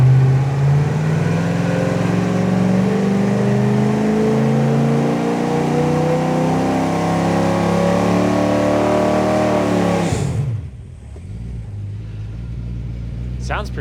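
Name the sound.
Buick 350 engine revving on a dyno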